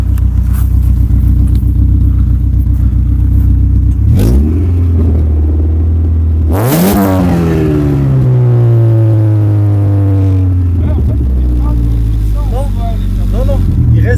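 A tuned car's engine revs, dropping from a steady deep rumble into a silent gap before a loud rising rev and a long falling exhaust note, with people talking over it throughout.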